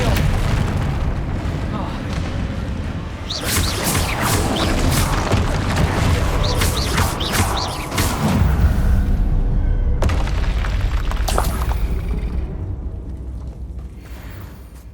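Bombarda and Confringo spells from Hogwarts Legacy burst in a run of heavy, booming explosions with crackling debris and mechanical clatter, loud and close, while a voice calls out over the blasts.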